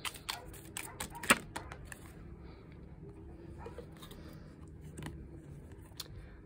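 Crisp riffling clicks of tarot cards being shuffled, with sharp bursts early on followed by softer shuffling, quiet and close.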